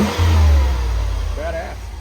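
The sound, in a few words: car engine revving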